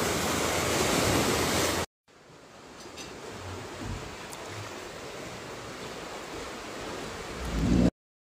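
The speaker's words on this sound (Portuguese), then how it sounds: "tá movimentado o mar aqui, hein?" Rough, choppy sea waves wash continuously as loud, broad surf with gusty wind, rising and falling in a steady roar and swelling at the end, with no voices.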